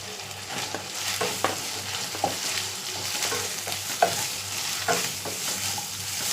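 Sliced onions sizzling and frying in hot oil with ginger-garlic paste, a steady soft sizzle broken by scraping stirs of a spoon in the pan, close and alone without talk.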